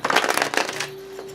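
Oracle cards shuffled by hand, a quick papery riffle and flutter of cards up close for about a second, then fading into quiet room tone with a faint steady hum.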